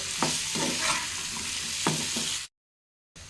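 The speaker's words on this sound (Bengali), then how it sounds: "এখন একটু 2-1 মিনিট নাড়াচাড়া করে নেব আর ঢাকা দিয়ে রেখে দেব।" Potatoes fry with spices in a pan, a steady close sizzle broken by scraping stirs of a spoon, before the sound cuts out.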